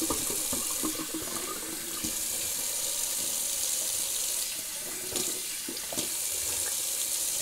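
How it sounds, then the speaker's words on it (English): Cold water pours steadily from a sink tap in a continuous, even hiss and splash, close and unbroken, with no talking. "Let's go for a little cold water rinse."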